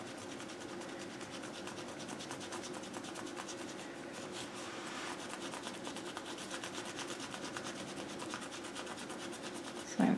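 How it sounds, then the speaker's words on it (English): A sponge rubs paint across a gel printing plate in a steady, continuous scraping rasp, close and fairly even throughout, with a brief louder bump at the very end and no talking. "So I'm rubbing a little instead of pouncing, so it'll be a little more faded."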